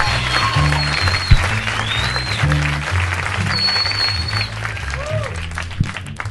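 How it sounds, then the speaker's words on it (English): A comedy club audience at a Mitch Hedberg stand-up show applauds, steady, dense clapping under a continuous tonal music bed for about six seconds. "How about a round of applause for Chuck?"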